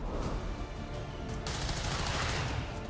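Sniper rifle shot from the character Mox in a turn-based tactics video game, a loud dense burst with a sharp onset partway through and a sustained, crackling tail.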